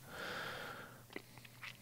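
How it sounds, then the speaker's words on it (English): One quick, breathy nasal sniff sits in a podcast voice recording, faint and close, followed by a few small mouth clicks with no talking. "Take out that sniff."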